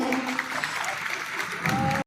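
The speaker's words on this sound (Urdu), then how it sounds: "زوردار تالیاں ہونی چاہیے" Loud, dense applause from an audience at a formal program welcoming Aneeq Ahmed, minister of religious affairs, a steady roar of clapping that swells again near the end, with some voices mixed in.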